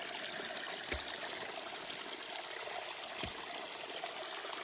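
A trailside stream along a desert mountain hiking route flows in a steady, faint wash of trickling water, with a couple of soft low thumps and no talking.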